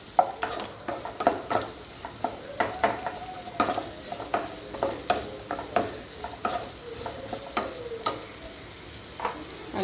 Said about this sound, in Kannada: ಇವನ್ ಫ್ರೈ ಮಾಡ್ಕೊಳ್ಳೋಣ ಈಗ